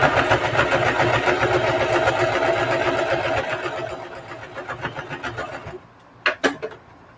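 A sewing machine stitches a mini duffle bag, a fast rapid-fire mechanical whirr running steadily for several seconds, then slowing to separate clacks and stopping, with a few close handling taps at the end.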